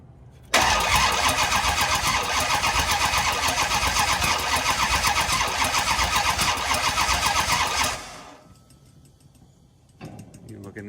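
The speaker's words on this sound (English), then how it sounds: "We can crank it for a second and get some fuel up in there." A Dodge Charger engine cranks hard without catching for about seven and a half seconds, a loud, steady, rhythmic mechanical churning that cuts off abruptly, leaving quieter background noise and a brief clatter near the end.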